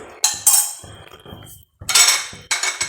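A metal spoon clinks against a pot while ghee is rinsed off it, making a few sharp, close clatters separated by short quiet gaps.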